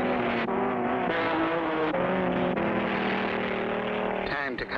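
Cartoon race cars speeding along a road, engines droning loud and continuous, pitch bending as they race, with a rapid announcer-style voice talking over the roar.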